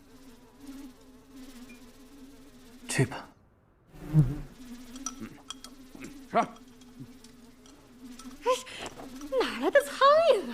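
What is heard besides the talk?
flies buzzing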